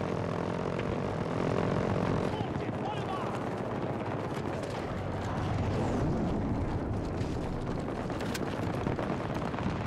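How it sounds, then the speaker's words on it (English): Hostile helicopter in Battlefield 2042, a steady broadband aircraft-engine drone holding loud throughout, mixed with scattered gunfire and battle noise. "Hostile helo located."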